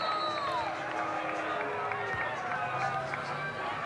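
Home crowd cheering at a high school football game between West Ridge and David Crockett, a steady roar of many voices filling the stadium, with play-by-play commentary over it.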